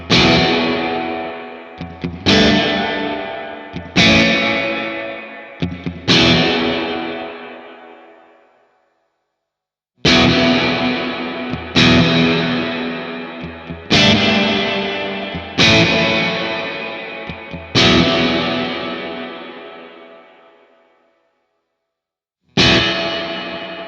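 Electric guitar chords played through a Strymon BlueSky reverb pedal with shimmer and modulation ring out one after another, each swelling into a lush, shimmering reverb tail with wavering modulation, decaying into silence between phrases.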